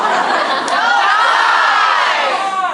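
An audience at a frosh-week improv show yells a word together in a loud, sustained roar of many voices that fills the whole moment without a break.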